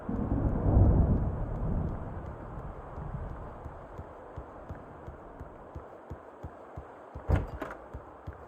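Thunder from an approaching storm in the game Alan Wake rumbles loudly at first, then fades into a soft, continuous rolling roar. Scattered low thumps follow, and a brief sharp crack comes near the end.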